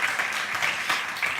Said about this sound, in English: Big applause, Alex.